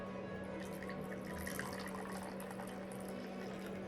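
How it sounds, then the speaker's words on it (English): Hot brisk black Tetley tea poured from a china teapot into a cup, a soft steady liquid stream with faint trickling, heard alone and quiet. "I will pour out a cup of tea"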